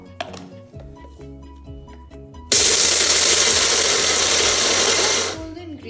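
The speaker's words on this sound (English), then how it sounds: "we're going to grind it into a coarse paste now" Groundnuts are ground into a coarse paste in a kitchen grinder, starting suddenly as a loud, steady whirring roar that runs for about three seconds and then cuts off, after quieter clinks and kitchen handling.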